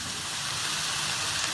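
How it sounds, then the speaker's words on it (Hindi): Finely chopped capsicum frying briefly in a pan for chicken fried rice, a close, steady, dense sizzle and crackle throughout with no talk. "इनको हम 20 सेकंड तक हल्का सा फ्राई कर लेंगे"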